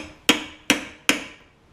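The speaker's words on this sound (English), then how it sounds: "you just take a small hammer, or you can take a big hammer, it just kind of depends. Just tap it very slightly." A small hammer lightly taps a metal clip on a Tecumseh carburetor three times in a steady rhythm, each tap a crisp, close click with a short ringing decay.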